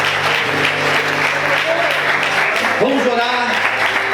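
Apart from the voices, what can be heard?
church congregation applauding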